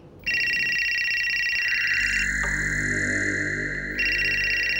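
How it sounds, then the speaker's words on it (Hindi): Electronic phone ringtone plays loud and close, a steady high, buzzy melodic trill that shifts tone partway through and carries on without talking. "मैडम, तुम्हारा फोन है, उठाओगे?"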